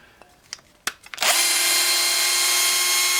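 A titanium-coated HSS step drill bit bites in after a few clicks and handling knocks, then drills continuously with a loud, steady high whine close up.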